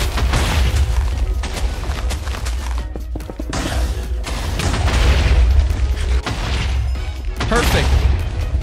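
TNT explosions go off in the Minecraft Trial Chambers, a run of loud, booming bursts close together with voices talking over them.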